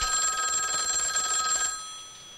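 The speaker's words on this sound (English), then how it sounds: "And the phone rings, the phone, and she answers it." Telephone in a TV show ringing with a bright electronic trill that holds for about a second and a half, then cuts off and leaves a quieter room tone.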